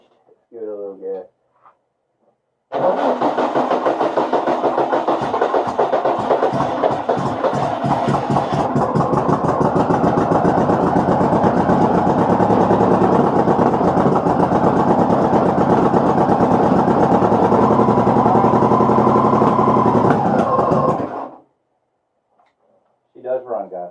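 VW-powered sand rail dune buggy engine starting and running steadily for about eighteen seconds, a loud rough rattling drone heard close up that then cuts off, with people talking before and after.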